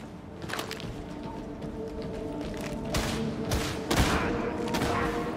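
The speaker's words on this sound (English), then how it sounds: "I just used a shotgun to snipe a sniper." Shotgun blasts in a Warhammer 40,000 shooter: a handful of loud, separate booming shots spaced irregularly over a constant battlefield hum, with no talking.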